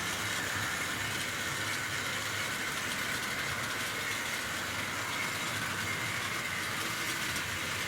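A Tri-ang Super 4 model train runs steadily on a layout, a continuous even rushing whirr and rumble that stays at the same loudness throughout, with no talking.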